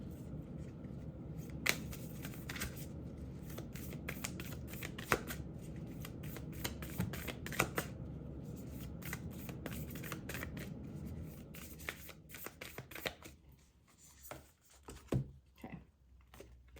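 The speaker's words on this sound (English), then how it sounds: "But I will shuffle that again." A deck of cards is shuffled up close, quick riffling bursts and soft snapping flicks repeating, growing sparser toward the end.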